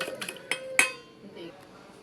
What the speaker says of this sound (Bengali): এই যে টক দইটা আমি ফেটাই নেব